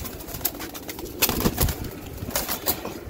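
Roller or racer pigeons in a loft, a male and a female pair, coo softly in several short bursts, with faint rustling and occasional wing movement in the background.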